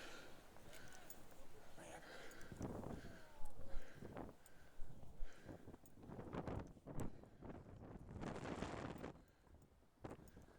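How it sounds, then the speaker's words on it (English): Wind buffets the microphone in uneven gusts, rumbling bursts rising and falling while a person talks over it. "Wind gusts have definitely picked up"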